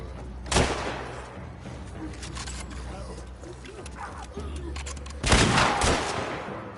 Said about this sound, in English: Maybe I'm gonna have to shoot it.